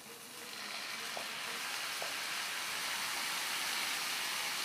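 Fresh spinach hits a hot pan for palak dal and sizzles in a steady, close frying hiss that builds after the first half second, with a couple of faint utensil clicks.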